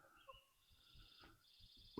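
A bird calls in a forest at evening, a few thin whistled notes at moderate distance over faint background hiss, ending with a sharper call.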